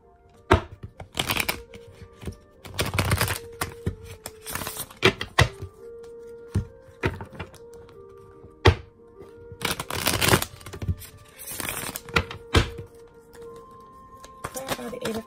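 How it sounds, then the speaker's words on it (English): A tarot card deck is shuffled by hand, crisp riffling bursts and sharp slaps of cards repeating at uneven intervals, close and fairly loud. "This deck was already shuffled, but we'll do one more"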